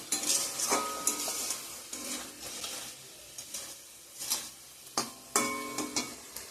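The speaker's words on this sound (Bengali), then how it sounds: "ফোড়নে দিছি গোটা জিরা তেজপাতা শুকনো লঙ্কা" Whole cumin, bay leaf and dried chilli fry in hot oil alongside ground coriander, chilli powder, turmeric and salt, sizzling loudly while a spatula scrapes and clatters against the pan in uneven strokes, with no voices.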